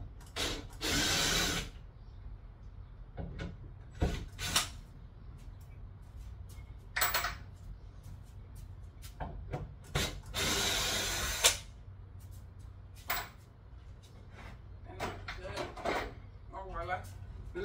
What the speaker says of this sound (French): Maintenant, je vais essayer de dévisser,